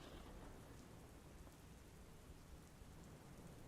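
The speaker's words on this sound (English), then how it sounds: "Actual rain hitting the roof of my broadcasting station." Heavy rain drums on the roof of a broadcasting station during a storm, a dense, steady hiss with no voices and faint distant rumbles.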